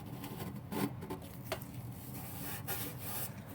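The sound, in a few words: scraping old gasket off Saturn L200 transmission pan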